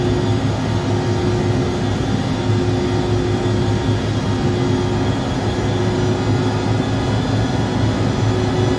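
An airliner in X-Plane 11 climbs out just after takeoff, its engines a steady, loud jet roar with an even hum, constant and close with no talking.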